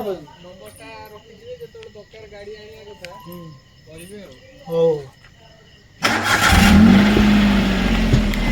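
Voices talk before a car arrives. Then a loud engine rumble comes in suddenly and keeps running close by, steady and broad.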